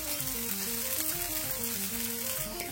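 Ragi dosa on a hot pan with a little oil gives a steady, close crackling sizzle that holds throughout, with a faint background tone beneath.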